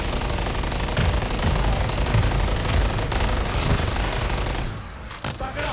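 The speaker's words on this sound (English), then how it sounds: "Mortar strike inbound." Continuous heavy impacts and rumbling bursts from an incoming mortar strike in a zombies-mode shooter game, a dense barrage of booms and crackling fire that thins out near the end.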